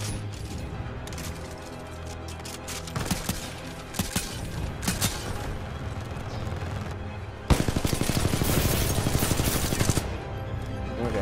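Rapid gunfire in the video game Titanfall 2: loud, dense automatic bursts with sharp single cracks early on, then a sustained hammering barrage of fast, evenly spaced shots near the end, with no talking.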